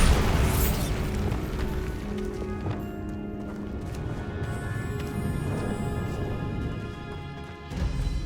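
A Bombarda blast in the video game Hogwarts Legacy: a loud opening boom with a burst of debris that decays into a rumbling tail and game ambience, plus a second thump near the end.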